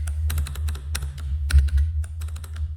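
Rapid typing clatters on a computer keyboard in close, uneven bursts of keystrokes over a steady low hum.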